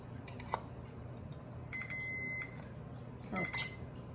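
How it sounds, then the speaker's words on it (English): A multimeter set to ohms gives a continuity test beep, a short steady electronic tone that sounds once near the middle, with faint clicks of probe contact before and after, quiet and close. "you'll hear a beep if it does have continuity"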